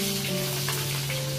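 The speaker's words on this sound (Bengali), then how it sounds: "তো তেল গরম হয়ে গেছে, এবার মাছগুলোকে ভালো করে কড়া করে ভাজবো।" Dried Bombay duck fish fry in hot oil with a close, steady sizzle and a few light crackles over a brief moment, with no voices.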